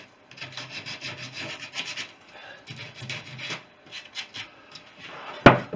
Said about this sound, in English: And quick whiz around with a bit of 120 around the edge of the holes.